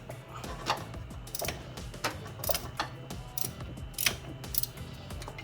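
Ratchet loosening a 14mm alternator bolt on a Honda Acty, rapid rhythmic clicking in short repeated strokes, close and fairly quiet, continuing throughout.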